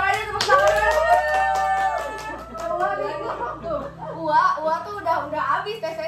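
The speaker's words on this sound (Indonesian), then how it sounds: "suaranya tepuk tangan." Scattered clapping and applause mixed with lively chatter and voices, people talking over the hands.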